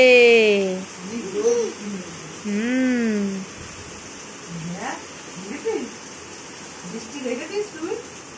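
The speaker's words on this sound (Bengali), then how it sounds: "বাইরে কি বৃষ্টি হচ্ছে" Rain falls steadily outside during a rainy spell, giving a constant soft hiss in the background. People talk over it in the foreground.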